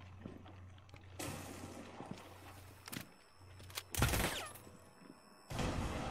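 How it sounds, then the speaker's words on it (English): Gunfire in the Rainbow Six Extraction video game, with several loud bursts of shots between quieter stretches of thuds and movement in the game. "What alerts them? The gunfire or the other guys?"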